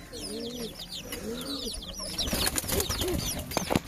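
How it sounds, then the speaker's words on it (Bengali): Pigeons coo repeatedly up close inside a nest box, soft rolling calls overlapping, followed by rustling and fluttering movement near the end. "এর ভিতরে অলরেডি পায়রা দুটো ঢুকে আছে"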